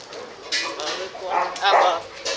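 Village dogs bark, yip and whimper excitedly while waiting for food at mealtime in a rural setting, several short bursts close by, with a person talking over them.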